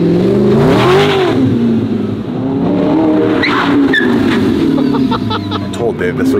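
A V8 supercar engine revs hard on a city street, loud and near, with rising and falling throttle blips; people talk over it.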